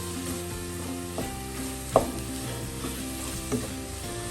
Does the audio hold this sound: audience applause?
no